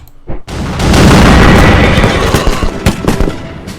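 A massed infantry musket volley in the Napoleonic strategy game Wars of Napoleon, one loud close crack swelling into a dense roar of overlapping shots, then thinning into scattered sharp reports.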